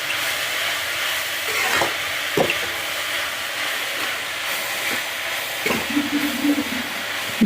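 Onions frying in oil in a pan for Kerala-style green peas kurma, a continuous hissing sizzle with a few sharp clinks of a spatula against the pan, close and fairly loud.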